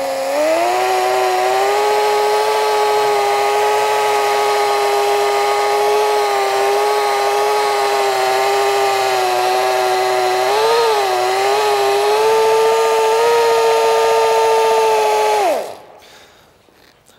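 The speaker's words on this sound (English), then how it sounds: "You just need to keep moving the buffer back and forth." A power buffer polishes sanded-down paint during a touch-up repair, giving a steady, loud motor whine that holds for about fifteen seconds with a slight dip in pitch partway through, then spins down and stops.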